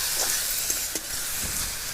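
Whole green cardamom, a black cardamom pod, a cinnamon piece and cloves fry in a hot pan, giving a steady, soft sizzling hiss with a few faint crackles over two seconds and no voices.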